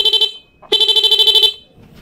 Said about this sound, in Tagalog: So ngayon i-sound check natin yung tunog ng busina natin